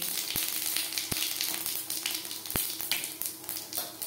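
Whole cumin seeds sizzling and crackling in refined oil with dried red chillies, a steady close hiss broken by a few sharp pops, with no voices.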